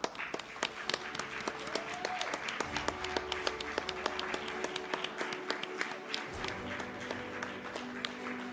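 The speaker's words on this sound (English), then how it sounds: "Please welcome her on stage with a huge round of applause." An audience claps steadily for a woman being welcomed on stage at the Forbes India W-Power event, the dense applause running continuously with some sharper individual claps near the front.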